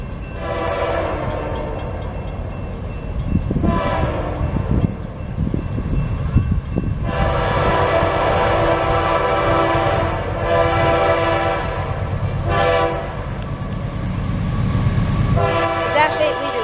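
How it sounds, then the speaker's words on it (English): A southbound mixed freight train with locomotives from several railroads passes at speed, its horn sounding in long loud blasts over the roar and rumble of the cars, close by, with some talk mixed in. "A southbound mixed freight train which was doing a pretty good speed through here with a pretty good lash up with several different railroads on it."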